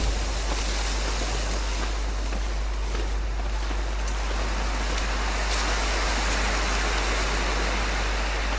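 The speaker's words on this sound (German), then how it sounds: "Oh, da geht der Wind." Wind in the survival video game The Long Dark, a steady, loud, broadband rushing roar that holds unbroken throughout, with no speech.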